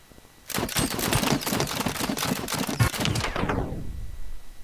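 Rapid sustained volley of firing-squad gunfire in the TABS battle game, dense overlapping shots for about four seconds before a reverberant tail trails off, loud and with no voices.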